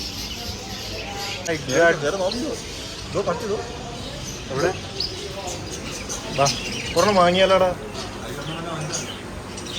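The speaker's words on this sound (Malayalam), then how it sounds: "കിളിയുടെ സൗണ്ട് കേൾക്കുന്നുണ്ടോ?" Birds chirp and squawk across a busy Sharjah animal market, a scattered background chorus beneath people talking close by.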